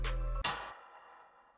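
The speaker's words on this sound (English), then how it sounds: "The first snare sounds like this." A snare drum sample for a beat cracks once as a sharp, noisy hit, right after a fading low bass tone, and then decays quickly into quiet.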